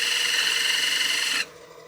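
A tapered wood piece spinning on a lathe at reduced speed is burnished, giving a steady, close rasping hiss of rubbing friction that cuts off abruptly near the end, leaving a faint hum.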